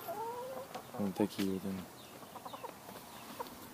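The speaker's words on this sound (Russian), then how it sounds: "Это вот эти вот курочки несут эти яйца." Chickens cluck softly nearby in a short burst of calls, while a person speaks quietly.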